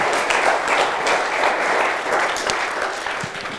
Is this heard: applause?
yes